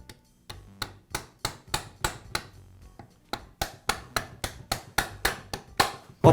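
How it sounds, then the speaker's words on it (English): A rubber mallet strikes a socket on an extension to seat a bushing into a bearing during a Milwaukee reciprocating saw wobble plate repair: roughly seventeen sharp, close knocks at a fairly steady rhythm, with no talking. "I'll use a socket with an extension and my rubber mallet to tap the bushing back into the bearing."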